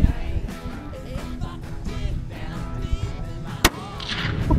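A single gunshot at an outdoor shooting session in Dongara cracks out sharply partway through, standing above a busy, rumbling background of outdoor noise and handling sounds.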